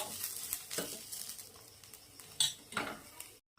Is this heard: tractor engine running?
no